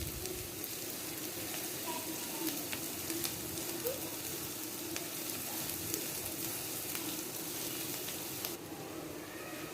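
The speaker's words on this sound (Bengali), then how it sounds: "পেঁয়াজ আর কাঁচামরিচ লাল করে ভেজে নিব।" Chopped onions and sliced green chilies fry in hot oil, giving a steady, close sizzle that runs evenly throughout with a few faint stirring scrapes and no talk.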